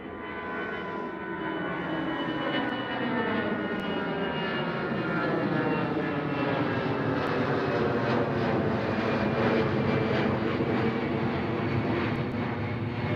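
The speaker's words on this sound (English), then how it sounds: "Iceland Air 737 MAX coming from the taxiway" An Icelandair Boeing 737 MAX jet moves along a taxiway on a cold, foggy day at Schiphol, its engines giving a steady, loud broadband roar that holds evenly throughout with no talk over it.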